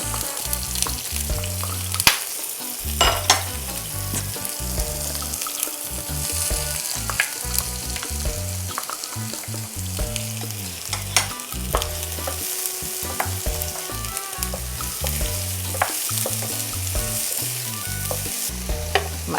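Onions and peppers fry in about three tablespoons of hot oil for Jamaican brown stew chicken, with a continuous close sizzle broken by frequent stirring scrapes and no voices.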